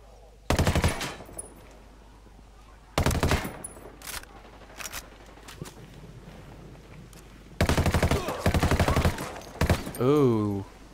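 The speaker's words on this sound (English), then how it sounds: "I love the gunshot sounds." Automatic gunfire bursts in the video game Ghost Recon Wildlands, several loud rapid volleys and single shots spaced over the clip, with a brief whooshing tail near the end.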